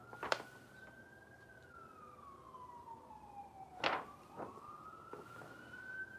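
A siren wails faintly in the distance, its pitch sliding slowly down and back up, with scattered sharp clicks and knocks nearby.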